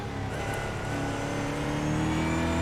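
A Brazilian Stock Car engine in iRacing drones loudly and steadily, its pitch climbing slowly as the car accelerates, with a dense, buzzing multi-tone roar and no voices over it.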